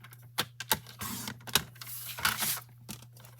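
Cardstock for a birthday card trimmed to 3 3/4 by 5 on a paper trimmer: close, crisp clicks and a few short swishing slicing strokes over a low steady hum, with no voices.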